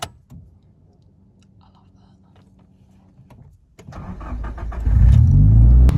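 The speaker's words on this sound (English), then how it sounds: "Okay, Morpheus, what does an SR20 DET with a bore exhaust, bigger turbo sound like?" A 2000 Nissan Silvia S15 Spec R with an SR20DET engine, bigger turbo and bore exhaust idles quietly, then revs up into a loud, deep, rising roar close by.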